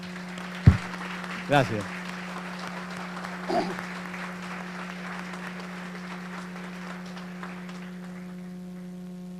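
A lecture audience claps in a burst that fades into scattered clapping, with a few loud nearby claps. A low steady hum sits underneath and someone briefly speaks.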